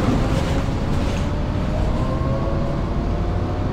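Steady engine drone of a Cotterell bus in the OMSI 2 simulator, a low rumble with a faint whine rising in pitch as it pulls along, continuous and close with no talk.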